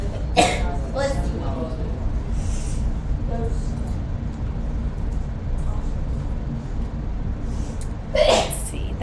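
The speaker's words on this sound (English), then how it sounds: "bless you. Everybody's sneezing" A couple of sharp sneezes break out, one near the start and another toward the end, over a low rumbling background with faint coughing sounds.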